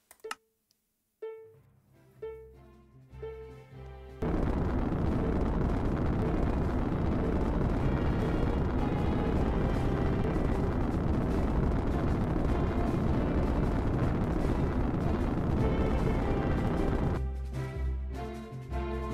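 A datapack rocket in Minecraft launches: a few short blocky game sounds, then a sudden loud, sustained roaring rumble that holds steady for about thirteen seconds before cutting off into lighter effects.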